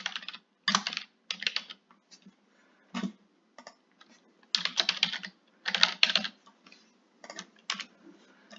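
Headings are typed on a computer keyboard, with quick bursts of close, crisp key clicks separated by short pauses and an uneven rhythm, and no talking.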